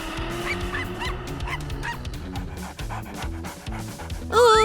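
A dog pants in rapid, steady breaths through a cartoon scene, with music and honking goose-like squawks mixed in over the top.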